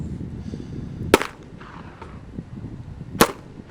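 Two sharp, loud pistol shots about two seconds apart ring out during a dot torture shooting drill at a range, with faint background noise between them.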